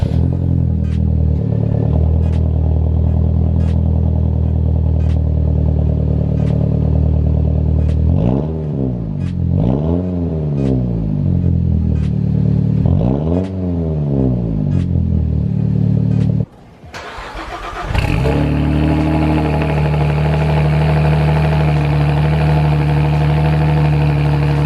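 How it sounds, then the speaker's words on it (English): Two cars, a Saab 9-3 and a Saab Turbo X, cold starting one after the other: loud starter cranking and catch, a revving rise-and-fall idle, a brief cutout, then a steady high idle from the second engine, no talking. "I figure I'll do a cold start between the two"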